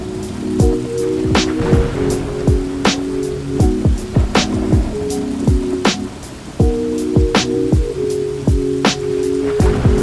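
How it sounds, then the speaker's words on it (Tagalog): Heavy rain pelting an Insta360 X4 Air 360 camera, loud close drops striking the body in sharp irregular knocks over a constant downpour hiss, no speech. "Yung patak ng ulan."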